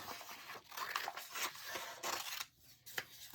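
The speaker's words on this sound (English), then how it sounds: "I'm going to do a zigzag line with my scissors." Scissors snipping a zigzag line through paper, a series of short crisp cuts in an irregular rhythm, close and quiet with no talk.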